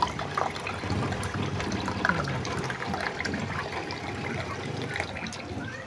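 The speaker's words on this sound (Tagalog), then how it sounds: "Hulog lang para umagsak yung tubig." Water pours and trickles steadily nearby, a continuous splashing flow at moderate volume with no speech.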